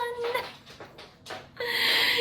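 Dogs whimpering and whining up close in short high-pitched bursts, ending in a longer, louder whine, with no talking.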